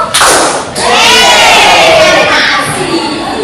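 A school class does a patterned clap chant, with a couple of loud, sharp claps in unison followed by a chorus of children's voices calling out.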